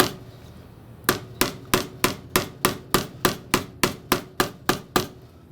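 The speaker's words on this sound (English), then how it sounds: "Then I'm going to hammer my way sort of towards the inside." Frets hammered into the neck of a thrift store Picasso bass guitar: about fourteen sharp, evenly spaced taps in a steady rhythm, close and crisp over a quiet background.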